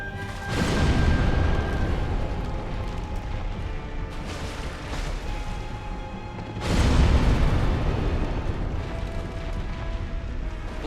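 A Dark Souls pyromancy fire spell hits an enemy with two loud, roaring blasts. The first comes just after the start and the second about six seconds later, each fading into a dense rumble of battle ambience.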